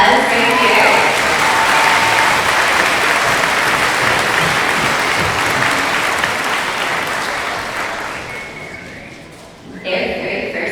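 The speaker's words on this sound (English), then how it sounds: "Let's give them a round of applause right here." Audience applause at a school orchestra spring concert, a dense, loud clapping that holds steady, then thins and fades out near the end, where a voice begins.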